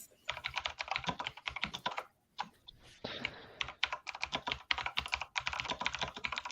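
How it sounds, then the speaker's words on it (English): Fast, continuous clicking of a mechanical keyboard, dense rapid keystrokes close by with two brief pauses, no voices. "No, he just has a mechanical keyboard."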